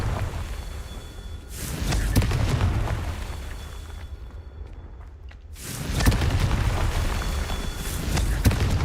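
A Confringo fire spell detonates in Hogwarts Legacy: two loud, booming blasts with rumbling low end, each rolling on for a few seconds over a steady game backdrop, with a short quieter lull between them.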